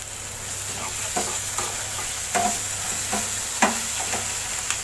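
Poppy seed paste sizzles in a pan with a constant close hiss, punctuated by soft scrapes and taps as it is stirred. No one speaks.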